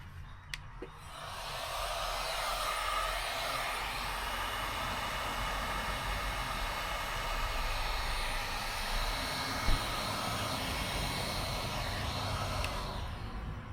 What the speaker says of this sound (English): the thing you're going to need is one heat gun and slowly heat up a corner